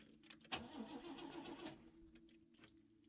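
In a video game, Lorelei and the Laser Eyes, a car engine cranks and sputters briefly without catching, after a short metallic click, quiet and close.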